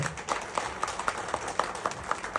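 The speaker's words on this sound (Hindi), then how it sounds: "एक बार तालियां बजाएं जोर।" Audience applause at an indoor leadership development program, a moderate crowd clapping in a loose, fairly regular rhythm with a steady crackle of hands, somewhat distant and even in loudness.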